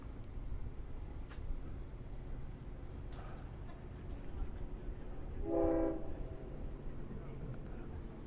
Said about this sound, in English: And there's a horn we hear from the train approaching.